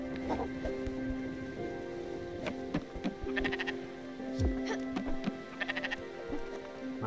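Sheep bleat repeatedly in the video game Spiritfarer, short wavering calls scattered over a soft ambient background with faint tonal music and patter, no voices.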